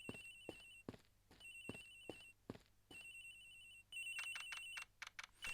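A cell phone rings in Ace Attorney Investigations: Miles Edgeworth on the Nintendo DS, playing a bright electronic ringtone in repeated bursts against a low game background hum, with no voices.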